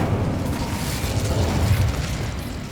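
Incendio fire spell in Hogwarts Legacy: a steady, close roaring whoosh of flame with low crackling bursts, sustained for a few seconds without speech.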